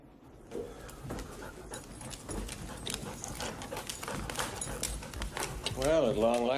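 A dog panting and then whimpering in a rising whine near the end, heard under people talking in an indoor scene from a television drama.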